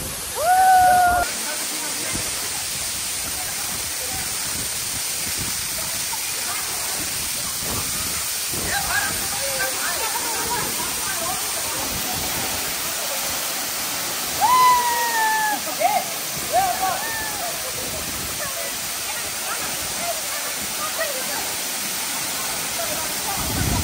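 A waterfall roars as steady broadband hiss throughout, loud and close, with voices and shouts occasionally rising over the rushing water.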